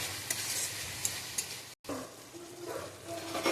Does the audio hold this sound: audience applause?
no